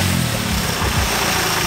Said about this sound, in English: now we're just gonna turn on the engine for a little bit